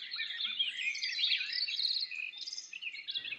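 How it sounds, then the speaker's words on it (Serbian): Many birds chirp and twitter continuously in a natural outdoor setting, a dense, bright chorus of overlapping calls at moderate distance with no speech. "Zar ne čuješ cvrkot ptica?"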